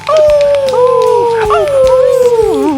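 A person imitates a long, wavering howl, sliding slowly downward in pitch and rising again near the end, close and loud.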